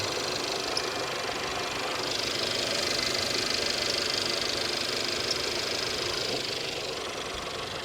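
A rattly, squeaky used car at a salvage auction lot idles roughly and unevenly, a steady close engine drone with knocking texture and no talk.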